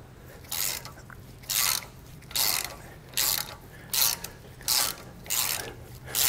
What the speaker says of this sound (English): we'll take a 10 millimeter socket and remove two factory bolts on our sway bar brackets going to our axle